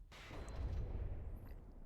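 A deep shell blast from the rear turrets of a warship in a naval battle royale video game, one heavy low boom with a rumbling tail lasting under two seconds.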